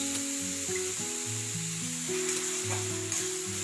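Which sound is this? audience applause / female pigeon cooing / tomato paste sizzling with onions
tomato paste sizzling with onions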